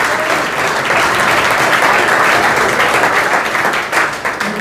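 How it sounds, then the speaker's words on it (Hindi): Loud, dense applause from a large class of students, sustained and even throughout with no voices over it. "एक बार स्पेशल ताऊ जी के लिए तालियां"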